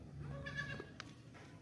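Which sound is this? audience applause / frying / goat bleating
goat bleating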